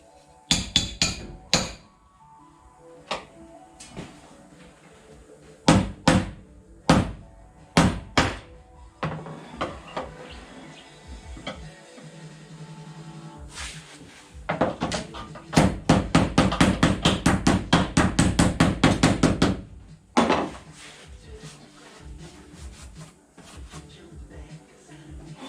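A spot weld busting chisel is struck by a hammer on the panel of a VW Kombi during a timber floor install, giving isolated sharp metallic blows and then a fast rapid burst of hits, close and loud, with quiet gaps between.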